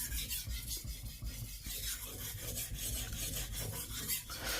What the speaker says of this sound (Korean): 왼쪽 면을 이제 갈아줄 거예요